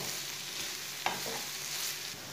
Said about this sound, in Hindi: चम्मच चलाते हुए ऐसे ही मीडियम आंच पर इसे भून लेंगे।